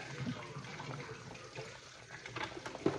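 Tap water runs quietly over a kitchen strainer during oily meatball pasta preparation, a faint, steady splashing hiss with small clinks, close by and low in level.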